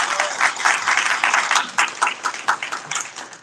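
A short burst of audience applause for a guest speaker, individual claps distinct and fairly close, rising and falling unevenly with no talking over it.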